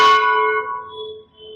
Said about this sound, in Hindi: बड़का सा घंटा टांगल है